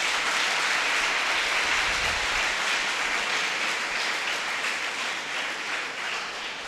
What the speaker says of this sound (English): if you please join me in giving a big round of applause to Dr.